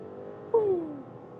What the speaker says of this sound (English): 60 to 120. Yeah, really nice from this V6 power.